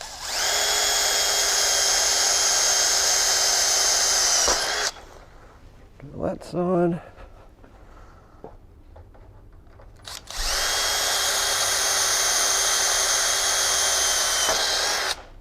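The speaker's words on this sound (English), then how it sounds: "We want to drill." A power drill bores holes through a Bimini frame during assembly, running in two long steady whines at the start and end with a quiet gap between, where a voice speaks briefly.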